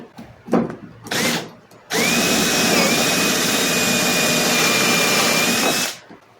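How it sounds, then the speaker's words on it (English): A power drill wrapped with sandpaper, reaming a hole through a boat deck, gives two short bursts, then grinds steadily for about four seconds with a high whine before stopping, close by. "Here's my drill with the sandpaper around it. It's like a tapered reamer."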